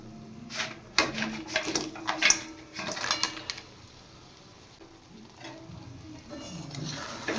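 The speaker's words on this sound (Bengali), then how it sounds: "এবার আমি সাতলে রাখা কাঁকড়াগুলো দিয়ে দেবো" Sautéed crabs tipped into sizzling spiced masala in a pan make loud bursts of sizzle and clattering stirring for a few seconds, then the hiss settles to a quieter, steady simmer.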